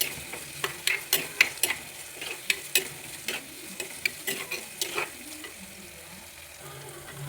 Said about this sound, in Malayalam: കുറച്ച് ഉള്ളിയും വെളുത്തുള്ളിയും പച്ചമുളകും എല്ലാം കൂടി എണ്ണയ്ക്കകത്ത് ഇട്ട് നല്ലതുപോലെ ഒന്ന് വഴറ്റി എടുക്കണം